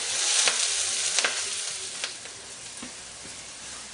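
Siningog, an Apayao dish, sizzles steadily in a pan, a dense hiss with a few louder pops early on that eases slightly toward the end, with no voices.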